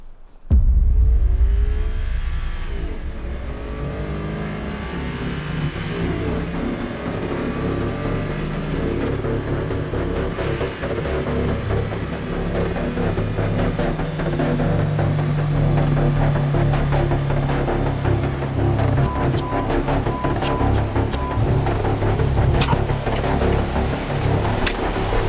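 A Mercedes-AMG car revs hard and accelerates down a drag strip, its engine note loud and sustained, rising steadily in pitch throughout with a constant roar and no talk.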